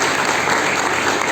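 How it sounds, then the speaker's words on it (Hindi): An audience at a Partition Horrors Remembrance Day ceremony gives loud, sustained applause to welcome guests, a dense, even wash of clapping from many hands. "जोरदार तालियों से स्वागत कीजिए"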